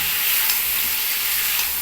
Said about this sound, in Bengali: দেখো মাছটাও আমার ভাজা হয়ে গেল